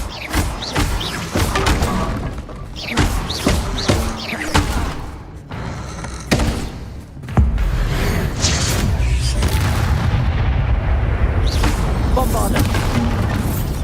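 A Bombarda blasting spell in Hogwarts Legacy erupts in a string of heavy booms and thuds, then settles into a dense rumbling roar that continues loud to the end.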